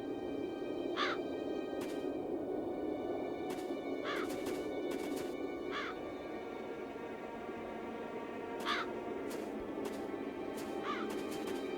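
A raven in the fantasy video game Satinavs Ketten (Das Schwarze Auge) caws several times in short, harsh bursts over a steady, hissing ambient background.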